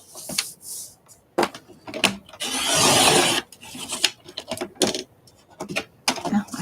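A paper snowman piece for a holiday craft is trimmed at close range, with sharp snips and papery scrapes followed by a longer steady rasping cut, then more scattered clicks and rustles.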